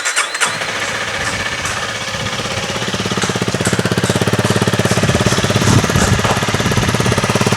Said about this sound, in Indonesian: Nah, untuk suara mesin dari motor ini bagaimana sih?